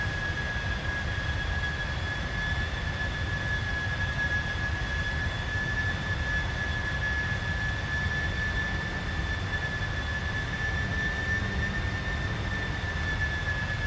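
Jet engines of a PMDG 747 heard in a flight simulator cockpit during a hand-flown approach, a steady, moderate roar with a constant high whine running unchanged throughout.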